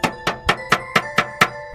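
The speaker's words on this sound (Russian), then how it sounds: "это был звук удара кулака по стеклу" A fist knocks on window glass seven times in a steady, fairly quick rhythm, each rap sharp and close with a slight glassy ring and no voices.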